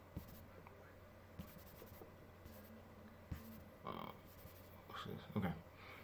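Writing being erased from a board during an algebra lesson, a faint run of soft rubbing swipes, a few short strokes then louder scrubbing toward the end, quiet and close.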